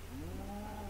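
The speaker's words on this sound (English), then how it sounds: "There's cows and sheep." Cows and sheep on a farm, with a low, drawn-out bovine moo rising and holding for about a second over a steady background hum.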